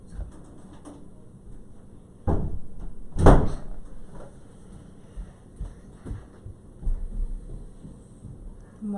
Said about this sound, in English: Can you not slam that door, please?